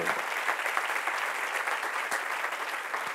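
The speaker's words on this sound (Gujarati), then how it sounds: "તાળીઓ ઓછી થઈ ગઈ" An audience at a spiritual discourse claps steadily, a dense, even patter of applause that holds throughout without any voices.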